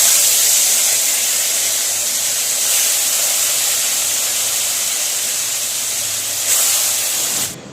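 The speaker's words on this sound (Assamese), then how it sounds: "আৰু মাছ মই তিনি পিচকৈ দি ভাজি লৈছোঁ" Fish pieces frying in hot oil in an iron wok give a steady, loud sizzling hiss that runs almost unbroken, with slight surges near the start and toward the end before it cuts off.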